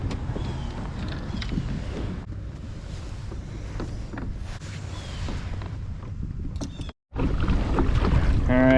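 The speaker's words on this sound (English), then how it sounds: "The wind is kicking." Wind rushes and buffets steadily across an open lake on a Florida kayak outing, a continuous close roar of gusts with water sloshing beneath, cut by one brief dropout near the end.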